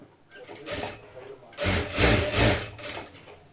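A sewing machine stitches along a folded fabric strip in short, close, whirring bursts with fabric rubbing, swelling louder in the second half.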